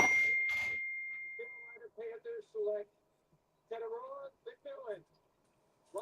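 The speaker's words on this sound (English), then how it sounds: "Can you hear my text messages go through?" A phone's text message notification ding rings out clear and sustained at the start, followed by several people talking over one another.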